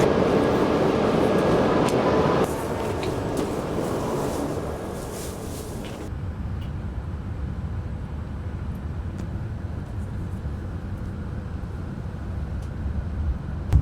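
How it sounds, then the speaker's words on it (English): A Japanese bullet train rushes past at 320 km/h as a loud, broad roar that cuts off abruptly after about six seconds, leaving a quieter steady rumble and faint background noise. "the fastest bullet train at 320 kilometers per hour just passes by"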